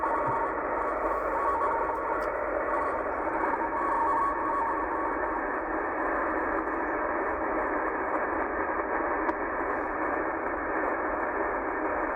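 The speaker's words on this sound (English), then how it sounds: "that's definitely radio teletype or FSK or something" A steady, dense band of radio teletype FSK tones on shortwave between 12,000 and 13,000 kHz hisses on without a break, a continuous digital warble under faint static.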